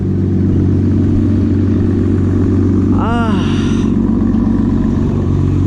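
An RB25DET engine with a freshly blown turbo runs loud and close with a heavy, droning rumble, and a brief rising whine or squeal cuts through around the middle of the clip.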